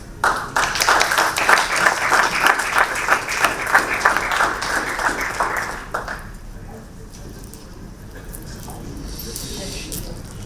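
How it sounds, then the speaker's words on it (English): Audience at a Bank of Baroda event gives a round of applause welcoming the Chief General Manager, rhythmic, fairly close clapping for about six seconds before dying down to room quiet. "Please welcome him with a huge round of applause."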